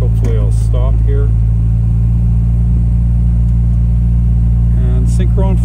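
A 1956 MGA sports car drives with a steady low engine rumble and loud wind noise, its wheels spinning, while someone talks over it.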